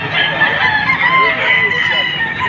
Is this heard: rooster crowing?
yes